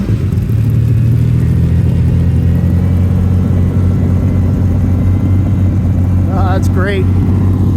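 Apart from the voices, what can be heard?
Lamborghini Countach engine driving off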